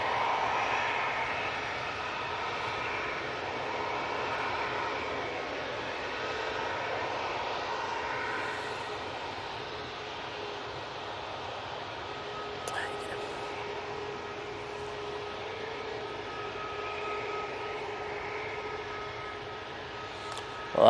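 A Virgin Atlantic jet airliner on a positioning flight takes off for London Heathrow, its engine whine and roar carrying steadily at moderate distance and slowly fading, with a voice talking over it.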